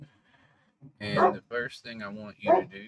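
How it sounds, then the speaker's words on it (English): A dog barks and yips a few times close by, with short sharp bursts mixed in with a man's speech indoors. "that's my dog"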